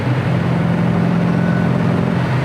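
A 1969 Camaro RS/SS restomod cruises in overdrive at high interstate speed, its engine a steady low drone under road and wind noise, no talk.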